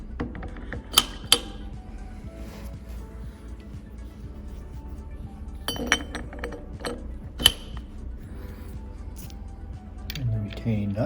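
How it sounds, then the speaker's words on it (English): Metal pump rotors for an Ampco ZP1 pump slid onto a splined shaft, giving a few sharp clinks and metallic clicks over a steady low mechanical hum, with a faint voice in the background. "Next we're going to load the rotors."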